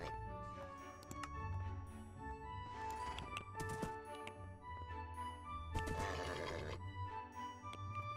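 In Minecraft, a horse gives several whinnies and snorts at close range, with a soft game sound bed and some tinkling effects behind it.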